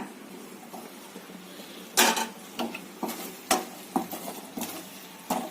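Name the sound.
stirring carrot halwa in a pot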